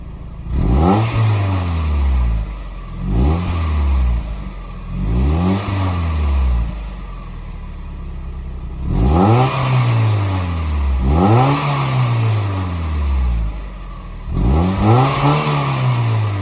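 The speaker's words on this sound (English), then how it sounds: "Okay, so this is the stock MB2 exhaust." A stock Mazda Miata exhaust revs up and drops back in repeated rising and falling sweeps, about seven loud, close throttle blips with short idle gaps between them.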